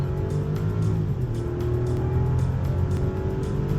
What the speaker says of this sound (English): Throttle response sharpens, the engine noise is more pronounced, and shifts snap instantly